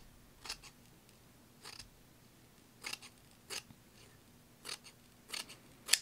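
Scissors cut orange ribbon into a thinner strip in a quiet room, making a series of short, crisp snips in small clusters spread evenly over several seconds.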